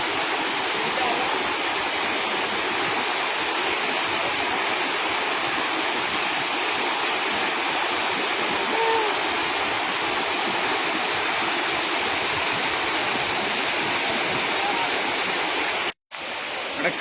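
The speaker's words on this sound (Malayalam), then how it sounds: "അതാണ് ഈ താഴത്തോട്ട് വന്നിട്ട് വലിയ വെള്ളച്ചാട്ടം രൂപപ്പെടുന്നത്" Steady, roaring rush of the Anayadikuthu waterfall at Thommankuthu, broad and continuous throughout, briefly dropping out near the end.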